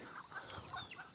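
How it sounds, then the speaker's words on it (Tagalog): Chickens and ducks cluck softly nearby as they follow someone, a few short faint calls in quick succession over quiet background noise. "Yung mga bibe, manok, ayun, susunod na nga sila eh"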